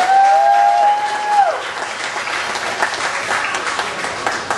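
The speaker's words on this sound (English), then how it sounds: "Everybody give Green Lantern a round of applause." An audience at a magic show claps steadily for a volunteer coming on stage, a fairly close wash of applause that slowly thins. A brief tone sounds over it at the start.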